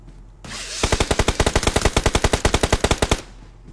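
Loud, rapid automatic gunfire from a shooting video game, a steady burst of about two dozen evenly spaced shots lasting over two seconds, close and alone with no talking.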